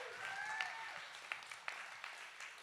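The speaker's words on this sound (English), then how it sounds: "Let's give Heather a round of applause for coming here" An audience applauds with a steady wash of clapping for a past VIP-ticket winner at a personal branding talk, holding fairly even and soft throughout with a few sharper claps standing out.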